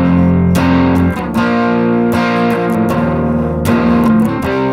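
An electric guitar plays the intro to a song through a distortion effect at lowered volume, with ringing sustained chords and picked notes in a repeating pattern, loud and close, with no voices.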